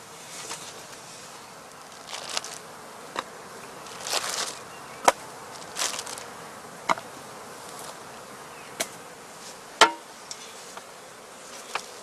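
Honey bees buzz at a heather skep apiary on heathland in northern Lower Saxony, a constant hum of many insects with individual bees droning close past now and then, and a few sharp ticks.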